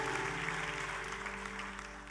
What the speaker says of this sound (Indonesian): Tepuk tangan buat Raja di atas segala raja.